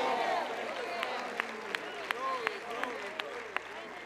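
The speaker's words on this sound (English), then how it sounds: "That was a hand clap." A church congregation claps during a sermon, with a few distinct hand claps ringing out at a loose, irregular rhythm beneath murmuring voices and a faint room hum.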